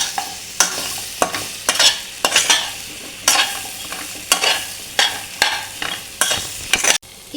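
Green mango pieces fry in a pan under a continuous sizzle while a spoon stirs them in regular scraping strokes, each stroke a sharp close swish, ending with a hard knock.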